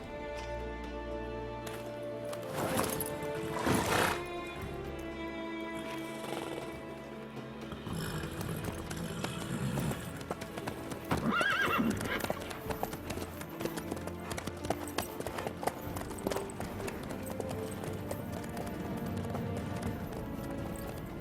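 Hooves of a horse galloping in The Witcher 3: Wild Hunt, a steady clip-clop rhythm running throughout over music and ambient game sound, with a brief stretch of speech.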